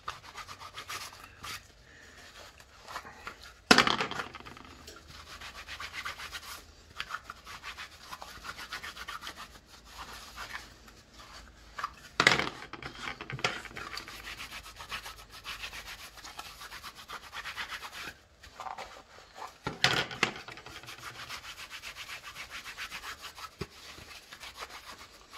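Gun holsters, including ones for a Taurus G2c and a Sig P938, being rubbed and polished with rim oil and a microfiber cloth, giving soft repeated rubbing and wiping strokes with a few louder scuffs, close and fairly quiet, with no talking.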